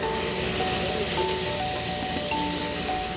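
A steady drone from an MAF propeller plane fills the clip as a loud, continuous engine hum with sustained tonal whine, heard alone and without talk.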